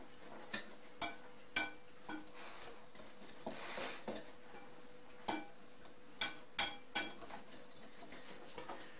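Utensil stirring muffin batter with vanilla sugar and baking powder in a bowl, nearby, with sharp scraping clinks and taps at irregular intervals against a faint background.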